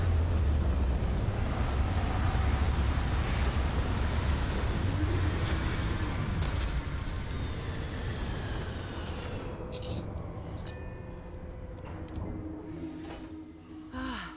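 A spaceship in the Starfield video game sets down in a landing, a loud steady engine roar and rush that fades and thins toward the end, with faint whooshes as it settles.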